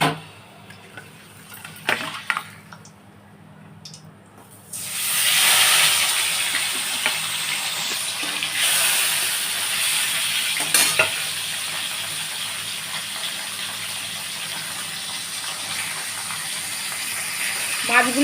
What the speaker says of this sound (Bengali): মাছগুলো যে ভাজা বসিয়েছিলাম পার্শে মাছগুলো, এগুলো সেরকম ভাজা হবে না, লাইট করে ভাজা হবে।